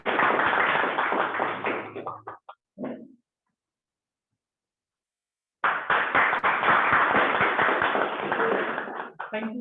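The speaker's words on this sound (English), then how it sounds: "So let's give huge round of applause." Applause at a Toastmasters meeting, a loud close burst of clapping that breaks off into silence for a few seconds, then resumes strongly and continues to the end, with a slightly harsh, clipped quality.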